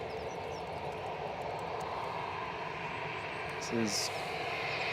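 Jet airliners departing Manchester Airport leave a faint, steady distant engine rumble, with someone briefly speaking near the end over it.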